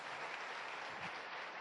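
An audience at a motivational talk claps steadily, a dense even wash of applause throughout.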